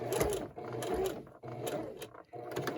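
A sewing machine stitches a diagonal seam across a Christmas table runner, running in close, steady mechanical bursts separated by short pauses where the fabric is pivoted, with no talking.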